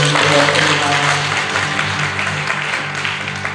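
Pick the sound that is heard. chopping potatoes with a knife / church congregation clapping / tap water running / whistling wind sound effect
church congregation clapping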